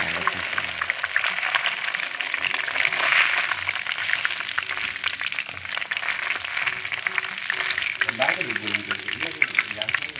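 Egg rolls frying in hot oil at a street snack stall, a steady crackling sizzle with constant popping bubbles. Voices chatter quietly nearby throughout.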